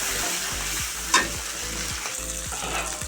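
An onion and spice masala sautés in oil, a steady close sizzle with a soft rhythmic undertone of stirring and one brief sharp clink partway through.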